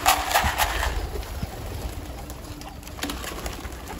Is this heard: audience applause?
no